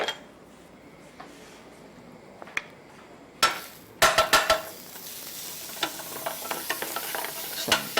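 Butter sizzles in a pan while a grilled pizza sandwich cooks, a steady frying hiss broken by a few sharp metallic clinks and scraping stirs of a utensil against the pan.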